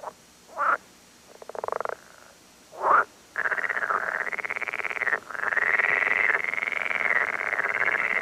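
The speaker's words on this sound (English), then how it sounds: "Male frogs advertise for a partner by croaking." Male frogs croaking in a pond during breeding season, a few short separate croaks followed by long, loud, continuous trilling calls, close and clear with no talk.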